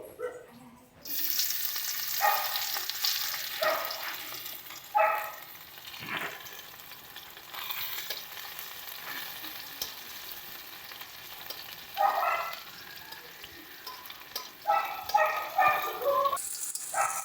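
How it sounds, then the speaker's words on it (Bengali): Onions fry in hot oil left from frying fish, the start of a mustard-paste bhola fish curry; a close, steady sizzle is punctuated by repeated scraping stirs, with a dog barking intermittently in the background. "এবার এর মধ্যে প্রথমেই আমরা পেঁয়াজটা ফোড়ন দিয়ে দিচ্ছি"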